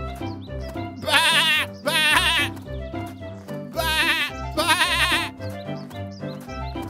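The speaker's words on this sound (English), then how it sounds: "he mingled with the dancing lambs by baaing" Cartoon sheep and lambs bleat in an animated story, with loud, wavering baas coming in several close bursts over a steady musical backing.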